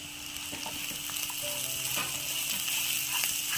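Chopped coconut and tomato sizzle and get stirred in a pan for a mushroom roast, a steady close frying hiss with occasional soft scraping and spoon clinks.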